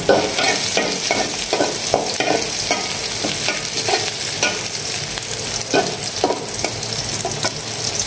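Three dried red chillies sizzle in hot oil while a spatula stirs them, making repeated scraping strokes over a constant crackling fry, close and fairly loud, with no talking.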